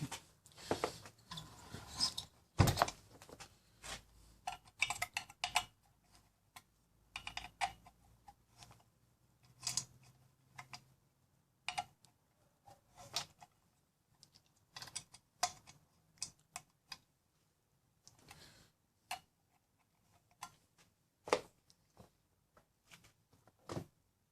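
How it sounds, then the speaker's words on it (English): A stud is screwed into a nylock nut on a clutch roller assembly, giving scattered small metallic clicks, ticks and ratcheting scrapes in irregular bursts with quiet gaps, close and faint. "keep screwing the stud in so that the nylock can get full purchase on the stud"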